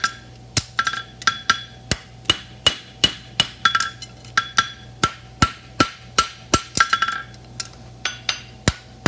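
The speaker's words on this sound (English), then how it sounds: "Taking with the edge of your hammer, just knife blade that out" A hammer strikes a horseshoe in a steady rhythm, about twenty ringing blows, with some clinking scrapes between hits; close and loud.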